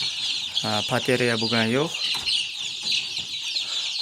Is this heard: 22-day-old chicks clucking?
yes